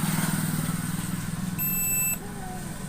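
A multimeter gives one brief continuity beep of about half a second while checking a 1803 transistor for a short in a dead Chinese CRT TV. The beep sits over a constant low, rumbling hum.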